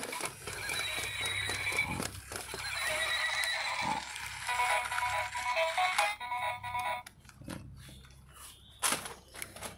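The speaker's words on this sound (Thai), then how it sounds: "ม้าโพนี" A toy pony horse gives repeated whinnying neighs with clip-clop effects, bright and electronic, playing in sequence with other toy animal sounds in a grassy yard; no talking.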